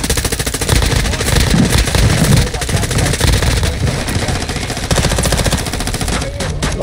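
Rapid automatic gunfire in a Call of Duty Warzone DMZ match, loud bursts of machine-gun fire stacked with heavier booms across several seconds. Someone shouts over the shooting.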